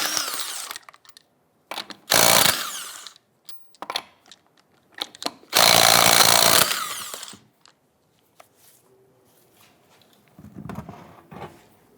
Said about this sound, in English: Using a 19mm socket, go ahead, loosen and remove your lug nuts.